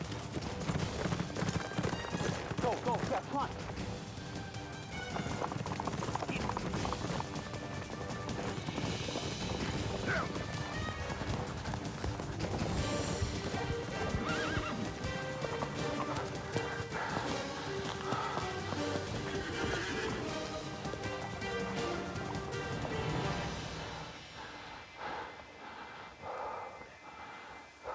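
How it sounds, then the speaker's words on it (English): Horses gallop with rapid, continuous hoofbeats, and whinnies break through now and then. A person calls out briefly over the clatter. "Horses, horses, horses."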